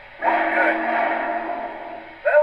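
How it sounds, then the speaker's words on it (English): Reverse whistle from an MTH C&O T1 2-10-4 model steam locomotive, one sustained whistle blast held for about two seconds, followed by a brief second toot, with no talk over it. "Reverse whistle."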